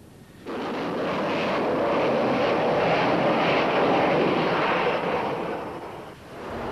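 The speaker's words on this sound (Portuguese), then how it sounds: "A A-6 não é um avião leve. Completamente armado, ele chega a pesar 27 toneladas sobre a catapulta." A heavy, fully armed Grumman A-6 Intruder jet attack aircraft on a carrier catapult gives a loud, steady broadband jet roar that swells in and holds, then eases near the end, with no talking.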